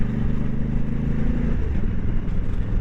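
A 1999 or 2000 Suzuki Intruder 1500 motorcycle with a 1.5-liter engine runs with a loud, continuous low rumble and throb, heard up close and steady throughout.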